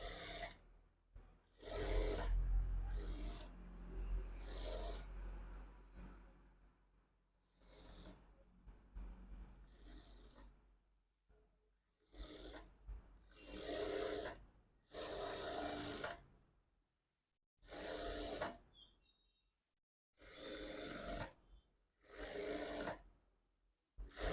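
Sewing machine stitching a lined blouse, running in repeated bursts of rapid mechanical whirring separated by short pauses, close and fairly loud, with no talking.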